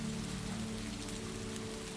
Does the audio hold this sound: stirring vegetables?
no